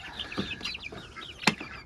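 Chicks in a coop give high, thin chirps, a few short calls scattered over a quiet background, with one sharper peep near the end.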